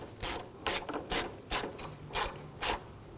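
Ratchet tightening the water pump bolts on a 2007-2013 BMW 328i 3.0L inline-six, six crisp clicking bursts in an even rhythm, close and clear with no talk.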